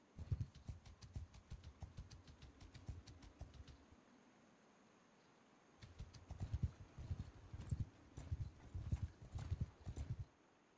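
Rhythmic video game horse hoofbeats clatter steadily, fading out for a couple of seconds before a second burst of galloping resumes, fairly quiet overall.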